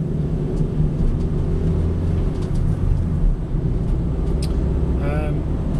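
A Vauxhall Combo 1.4 dualfuel LPG van driving along at a steady pace, its low, even engine and road rumble heard from inside the cab, with a person talking throughout.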